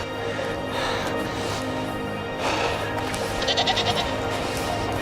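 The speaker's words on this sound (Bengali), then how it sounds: "একটি ছাগলের দল।" A herd of goats on a mountain walking trail, several bleats calling out at moderate distance over outdoor ambience, with a burst of quick repeated bleats near the end.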